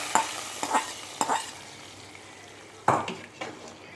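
Curry leaf tempering stirred into mutton bone soup in a pot, giving a soft sizzle with a few sharp clinks and scrapes of a spoon against metal, close and fairly quiet.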